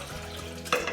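Leftover apple champagne mixture splashes into a glass in a brief, close pour that ends with a bright liquid burst near the close.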